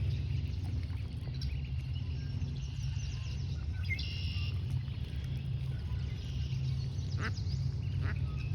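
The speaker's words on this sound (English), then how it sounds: "I think it's just a mallard." A mallard duck quacks outdoors in spring, giving a few sharp, fairly close quacks around the middle and end over a steady low background rumble.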